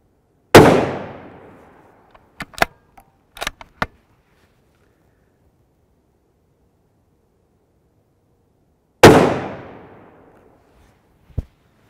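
A rifle in 7.62x51mm (7.62 NATO) fires 10 grain DAG trainer rounds, two loud sharp cracks about eight seconds apart with decaying tails, separated by several quick metallic clicks of a bolt being worked.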